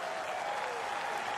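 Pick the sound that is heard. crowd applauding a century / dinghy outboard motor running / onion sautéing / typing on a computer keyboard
crowd applauding a century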